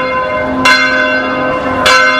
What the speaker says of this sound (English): the bells rang across the city